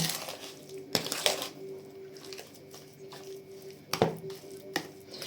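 A spoon scrapes and knocks against a bowl while thick shortbread dough of eggs, butter and sugar is stirred, with soft squishy mixing sounds and a few sharper clinks.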